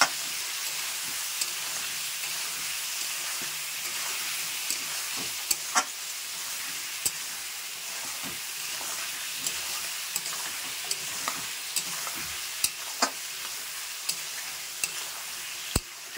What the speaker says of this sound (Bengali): কিন্তু চিকেনগুলো ভালো করে ভেজে নেব